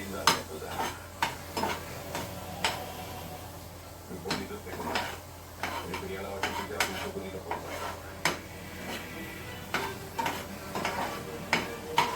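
Tomatoes fry in oil in a pan for pasta, a soft sizzle under repeated sharp scrapes and clinks of a spoon stirring against the pan, with a low hum underneath.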